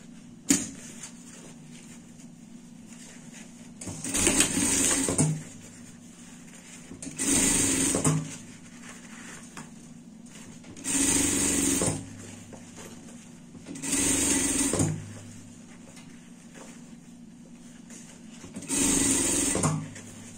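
Sewing machine stitching seams on a pet treat pouch, running in five separate bursts of about a second each with quiet pauses between, close and steady.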